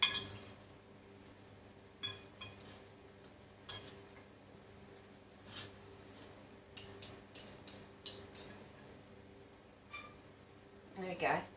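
A utensil mixes pudding in a bowl, making soft, irregular clinks and taps against the dish that come in quick clusters, with a quiet voice now and then.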